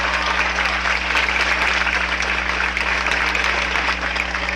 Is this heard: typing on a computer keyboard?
no